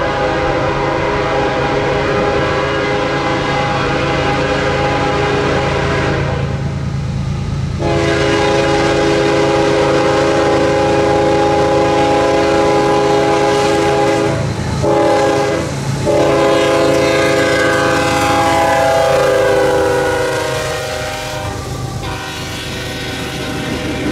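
A KCS manifest freight train rolls past on the Meridian Subdivision near Jackson, its horn blaring in long, loud sustained blasts with short breaks over the steady rumble of the moving cars.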